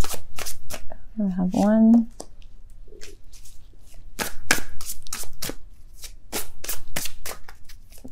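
Tarot cards shuffled in a repeated riffle of short, crisp snaps across the whole stretch, with a voice talking briefly and a bird-like chirp in the middle.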